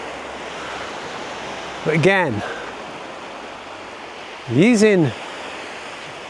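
Surf washing onto the beach at Whitby with the tide going out, a steady broad wash throughout, with someone speaking twice over it.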